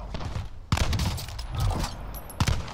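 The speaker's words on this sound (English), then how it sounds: "I was getting shot by three different directions." Gunfire in Call of Duty Warzone on Rebirth Island arrives from several directions: sharp close bursts and a rapid fusillade, with heavy shots near the start and end and scattered cracks between.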